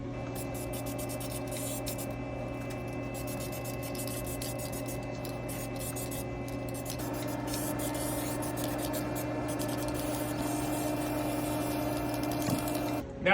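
Aluminum paint being sprayed onto a sanded, masked Mustang engine: a steady, close, continuous hiss over a constant mechanical hum, with no pauses throughout.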